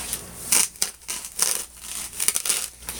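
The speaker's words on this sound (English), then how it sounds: "So what I'm going to do is cut the pool noodle." Foam pool noodle being cut with scissors, several quick crisp snips and squeaky slices in a close, quiet setting.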